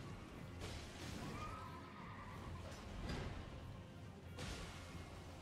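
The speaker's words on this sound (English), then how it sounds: "Oh, horse!" A horse neighs in the video game Elden Ring, a drawn-out whinny over a busy game soundscape with whooshes and impacts, moderately loud and close.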